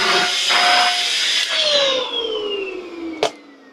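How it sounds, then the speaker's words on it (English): A mains-powered hoover running off an Ecoflow Delta Max power station gives a loud whining motor drone that slowly winds down in pitch as it spins down, with a sharp knock near the end. "I can start hoovering with my mains hoover."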